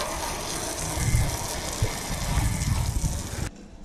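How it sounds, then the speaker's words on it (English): Water sprayed hard from a hose onto the sliding door T-vent window of a RAM ProMaster van during a leak test, a loud continuous gushing hiss that surges a few times and then cuts off abruptly near the end. "So now we're going to do a water test. Give it a good spray"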